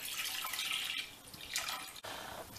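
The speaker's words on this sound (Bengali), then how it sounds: "বাকি দুধগুলো একটি বড় পাত্রে ঢেলে নিলাম।" Milk pours into a large pot for firni, a steady splashing liquid stream that continues for a couple of seconds, close by, with small breaks in the flow.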